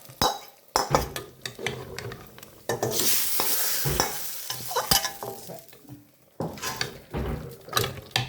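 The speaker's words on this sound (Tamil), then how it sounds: "இப்போ தாளித்து கொட்டிடுவோம்" Hot tempering of chillies, curry leaves and kasuri methi sizzles sharply as it is poured into kadalai curry, then a spoon scrapes and clinks against the pot in uneven bursts, close by with no speech.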